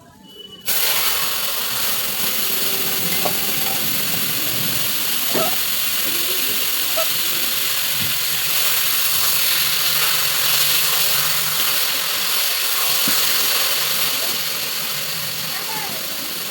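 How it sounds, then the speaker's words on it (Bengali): Taro leaves dropped into a hot pan send up a loud, steady sizzle and hiss that starts abruptly and holds for the whole stretch, with faint scrapes and clicks underneath. "এটা কচু শাক ঢেলে দেওয়া"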